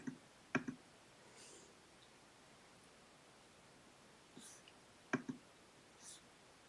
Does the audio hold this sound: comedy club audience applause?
no